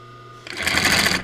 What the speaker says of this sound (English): let me see if I could sew a little and hold the camera also